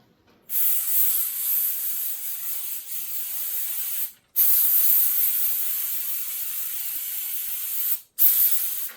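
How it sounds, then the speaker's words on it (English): CA glue accelerator hissing from an aerosol can in steady bursts during a table saw crosscut sled build, three long sprays of about four seconds each with brief gaps between them, close and loud with no talking. "So then I just go ahead and spray some of the accelerant on there."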